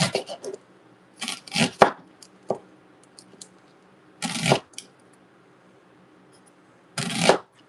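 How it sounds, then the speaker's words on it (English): Knife dicing vegetables for guacamole on a cutting board, in short bursts of quick chopping strokes separated by pauses, close and fairly loud with no talking. "I'm going to dice these up fine because I'm also going to put some into my mango pico de gallo that I made"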